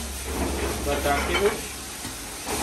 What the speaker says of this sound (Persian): زردچوبه را کمک سرخ میکنیم همراه پیاز خود